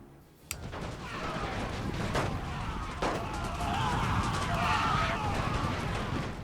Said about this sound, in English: The artillery fire can fire really far